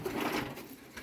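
Pigeons softly coo in a breeding aviary, a low, faint, brief murmuring call over quiet background.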